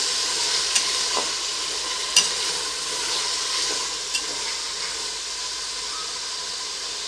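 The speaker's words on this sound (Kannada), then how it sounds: "ಈಗ ಇದು ಒಂದು ಎರಡು ನಿಮಿಷ ಇಲ್ಲೇ ಫ್ರೈ ಆಗಬೇಕು" Tomatoes and vegetables frying in a pan for a vegetable pulao, a steady broad sizzle with a few faint stirring clinks, close and even throughout, no talking.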